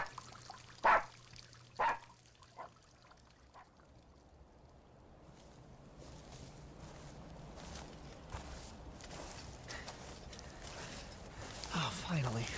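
A dog barks twice early on, distinct and fairly close, followed by a steady wash of pouring, trickling water that builds toward the end.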